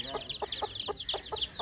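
Nearby chickens on a village poultry farm cluck in quick, rhythmic bursts, several birds calling together without any talking.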